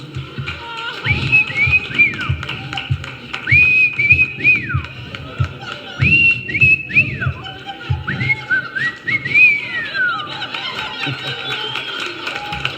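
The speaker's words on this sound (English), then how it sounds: "Oh, trying to whistle there." A person whistles a simple melody, Amazing Grace, with sliding notes in short phrases, close by at a live comedy show, over background murmuring and a few soft thumps.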